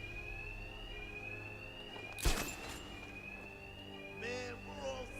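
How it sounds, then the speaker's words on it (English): An alarm rings in Batman: Arkham Knight as a steady high electronic tone under the game's ambience, broken by a sharp crash near the middle and a few warbling electronic sweeps toward the end. "My attacks will be covered by the noise of the alarm."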